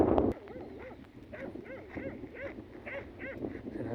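A dog greets the walker near an abandoned farm with a sharp opening bark, then a run of repeated whimpering, yipping cries at a close distance over a steady outdoor background.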